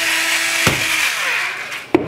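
A pepper grinder cracks pepper over beef tongue, a continuous gritty grinding rasp, close and loud, with a couple of sharp clicks as the mill twists.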